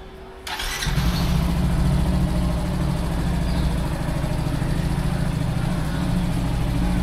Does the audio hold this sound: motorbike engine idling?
yes